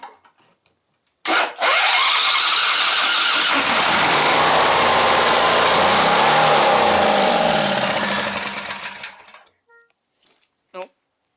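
A 20 hp Briggs and Stratton engine under rebuild cranks and catches with a little throttle, roaring loudly and steadily for about seven seconds before winding down and dying, followed by a brief clunk.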